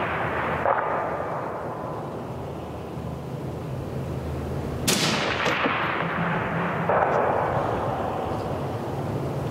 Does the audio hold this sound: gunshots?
yes